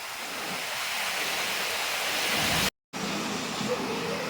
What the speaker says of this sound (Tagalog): Lakas pa rin ng ulan guys.